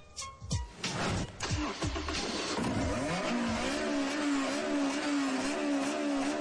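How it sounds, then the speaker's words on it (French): A Honda S2000 sports car engine revs up hard from a start, climbing past 9000 rpm to a high, sustained whine that holds steady near and loud. "ils nous font tourner ce petit moteur à plus de 9000 tours minute"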